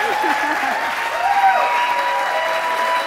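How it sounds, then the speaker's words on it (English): An audience at a video industry summit debate applauds one of the debate teams, a steady mid-level clapping wash throughout, with a voice talking over the start. "applause for the for team"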